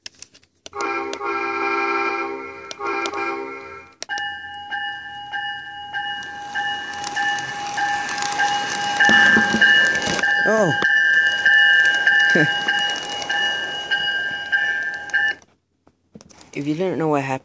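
A Lionel LionChief O scale Metro-North M7 model train runs with loud, steady electronic horn tones held for several seconds over a close mechanical hum, with a voice exclaiming and talking nearby.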